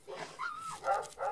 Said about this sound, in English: Something spooked that dog,